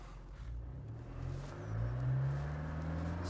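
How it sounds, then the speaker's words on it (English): Toyota Land Cruiser engine in low range with the differential locked, revving steadily as it builds momentum to climb a sandy slope, a low rumbling drone that swells louder toward the end. "So I'm going to get the momentum up to get up this sandy bit."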